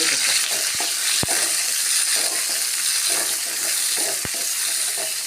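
Bilimbi frying in butter in a hot pan, a loud continuous sizzle with a utensil stirring and scraping, a few sharp clinks against the pan.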